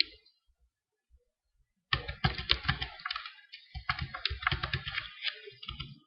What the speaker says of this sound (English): with that we type in our user name and